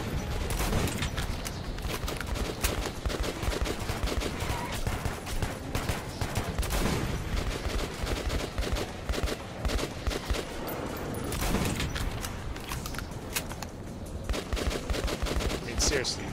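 Rapid bursts of automatic gunfire from the video game Metro 2033 Redux, dense, loud and sustained throughout, with occasional spoken commentary beneath the shooting.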